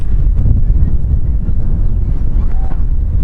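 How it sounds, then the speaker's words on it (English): Heavy wind roars steadily across an outdoor field during a youth ultimate frisbee championship game, a loud, constant rumbling buffet on the microphone that masks everything else. "Wind is very heavy right now."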